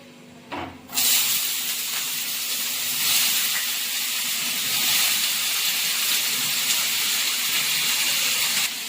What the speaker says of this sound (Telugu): ఇక ఆయిల్ వేడి అయ్యింది దొండకాయలు ఫ్రై చేసుకుందాం